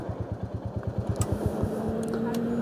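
A Bullet motorcycle engine runs close by with a steady, even thumping beat that carries through the whole stretch, loud and without talk over it.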